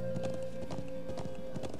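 Horse hooves clip-clop steadily in the Trails of Cold Steel video game, a quick trotting rhythm with a faint whinny, loud and close over game music.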